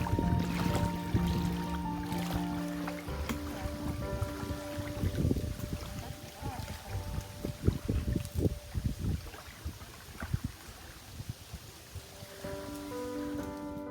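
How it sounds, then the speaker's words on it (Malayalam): A government ferry boat comes in on Sasthamcotta, a freshwater lake in Kollam, with faint water sloshing and lapping, low hums and scattered knocks, all fairly quiet and with no voices. "ഈ വന്നത് ഇവിടെയുള്ള സർക്കാരിൻ്റെ കടത്ത് വള്ളമാണ്"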